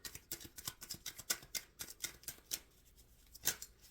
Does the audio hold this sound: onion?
no